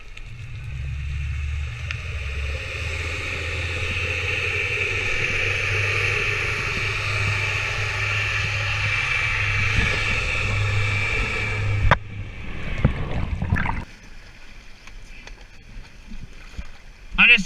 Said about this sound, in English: The boat comes in and 2 V8 engines and he is gone.